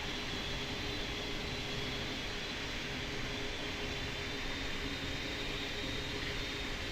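An airliner in a Roblox pilot training flight simulator roars steadily through its takeoff, a constant broadband engine rush with no rise or fall and no voices over it.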